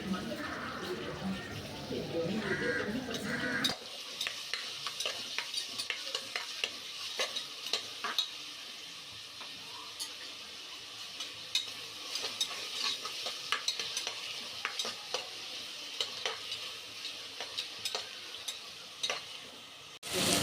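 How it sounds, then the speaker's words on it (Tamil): Three tomatoes fry in a hot pan, giving a steady sizzle broken by repeated scraping and stirring clicks. A voice talks briefly at the start. "தக்காளி ஒரு 3 தக்காளி போட்டு நல்லா ஃப்ரை பண்ணி எடுத்துக்கணும்"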